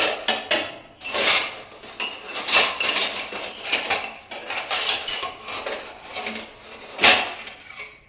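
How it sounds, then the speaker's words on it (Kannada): Kitchen vessels topple and clatter in a small home kitchen, with several sharp metallic crashes and rattles of pots, plates and utensils arriving in irregular bursts, loud and close, with no talking. "ಪಾತ್ರೆ ಒಂದು ಎತ್ತಿದ್ರೆ ಒಂದು ಬೀಳುತ್ತೆ"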